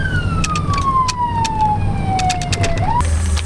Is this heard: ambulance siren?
yes